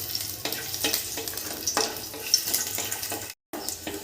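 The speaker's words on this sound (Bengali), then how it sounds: "রসুনটা আমার ভেজে নেওয়া হয়ে গেছে" Chopped garlic fries in hot mustard oil in a wok, a steady close crackling sizzle with faint stirring scrapes and a brief dropout near the end.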